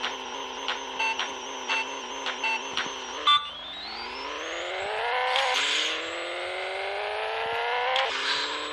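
Pixel Car Racer drag race with a Rocket Bunny Nissan 370Z, a series of short synthetic revving blips at staging, then a continuous rising engine whine climbing through gear shifts.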